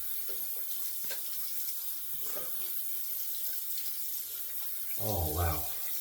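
Tap water runs into a sink as a face is rinsed after a shave with a Form razor, a faint steady trickle that swells into a louder splashing rush near the end.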